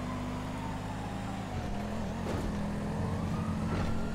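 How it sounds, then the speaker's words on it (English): A broken police siren in GTA Online gives off odd, warbling tones, sliding pitches over a constant engine-and-road drone, with no talking. "I like how my siren's broken."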